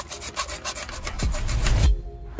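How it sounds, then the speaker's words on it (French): Rough rasping strokes of a hand saw cutting, steady back-and-forth scraping with a heavier low grind toward the end, close by. "Ouais, franchement la scie là elle marche bien."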